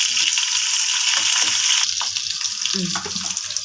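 Onion, garlic and curry leaves fry in hot oil for an amaranth garlic fry, a bright continuous sizzle with occasional stirring scrapes and a brief voice near the end.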